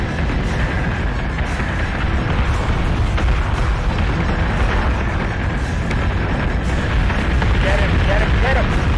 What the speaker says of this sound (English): We're taking sustained fire.